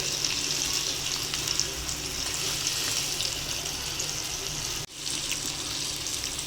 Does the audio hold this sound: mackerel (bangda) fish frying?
yes